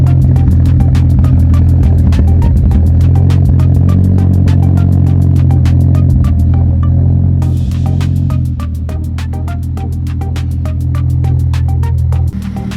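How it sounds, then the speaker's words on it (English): A Mazdaspeed car engine runs loud and close just after a cold start. It holds a steady, throbbing idle drone that eases slightly lower partway through, with no talk. "Cold start"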